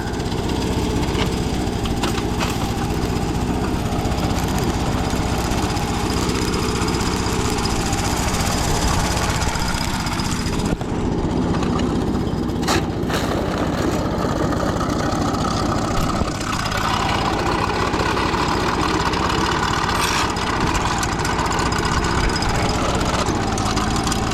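A small gas engine, like a leaf blower, drones loudly and steadily throughout, with brief shifts in pitch but no pause.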